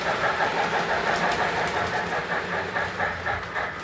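A Lionel model train engine runs steadily with a continuous rumbling drive and faint rhythmic clicking of wheels on track, fairly close and without talk.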